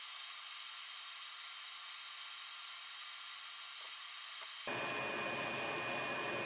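Hot air gun blowing at 460 degrees Celsius and 50% airflow during Xbox One S board repair, a steady close hiss that turns fuller and rougher partway through, no speech.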